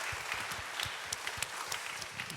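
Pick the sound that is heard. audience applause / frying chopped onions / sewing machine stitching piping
audience applause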